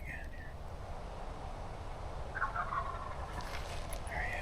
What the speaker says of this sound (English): Gobble again here.